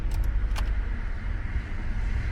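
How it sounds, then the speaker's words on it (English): A Honda SOHC VTEC car engine idles low with a steady, deep, close hum and a faint light jingle near the start. "The car feels like it's idling quite low though."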